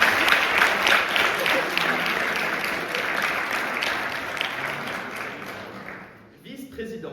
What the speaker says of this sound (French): Je vous demande un tonnerre d'applaudissements pour Maître Maroubi.